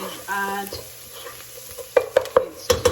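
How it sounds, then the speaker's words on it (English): Onions and garlic sautéing in butter in a pot, a soft steady sizzle under a few sharp clinks of a spoon against the pot near the end; a brief tonal hum early on. "the onion and the garlic is nicely sauteed, as you can see"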